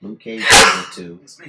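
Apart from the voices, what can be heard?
sneeze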